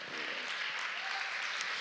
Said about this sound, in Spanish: Un aplauso para Samuel.